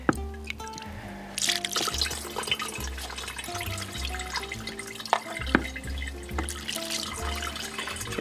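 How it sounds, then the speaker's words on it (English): Engine oil purged from an oil line trickles and drips into a can during a tune-up, a close continuous pour with irregular splashes over low mechanical hum. "We're just purging the oil line a little bit and getting a little oil in our can"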